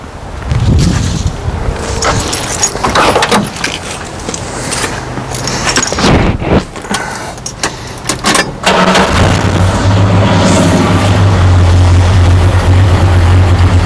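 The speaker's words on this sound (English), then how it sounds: "Got a little bit of a throaty exhaust." A 1973 Plymouth Duster's V8 engine cranks and fires up, revving a few times before settling into a loud, steady, throaty idle close by.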